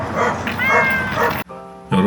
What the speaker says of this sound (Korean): 오늘 밥이랑 누이가 왜 이렇게 짖는지 모르겠어요